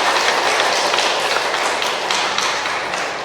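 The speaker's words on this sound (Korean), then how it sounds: "다시 한번 우리 자신을 위해서 박수 한번 칠까요?" An audience applauds at a Catholic charismatic renewal gathering: a dense, loud, continuous wash of many hands clapping that fades slightly at the end, with no talk.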